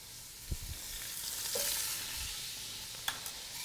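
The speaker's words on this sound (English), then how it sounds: "I go ahead and stir in my sliced onions" Sliced onions are stirred into spattering hot oil with a wooden spoon after beef is removed, giving a steady close sizzle with a few sharp scrape and clatter hits scattered through it.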